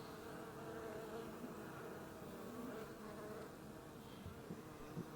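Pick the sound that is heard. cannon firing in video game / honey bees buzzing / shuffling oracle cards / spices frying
honey bees buzzing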